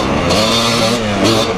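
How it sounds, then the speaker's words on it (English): A Honda CR500 motorcycle revs close by during a ride, its engine roaring loud and continuous with slight swells in pitch. "how often do you get to ride with someone on a CR500?"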